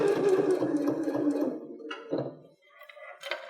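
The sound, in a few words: sewing machine stitching fabric for a 3D mask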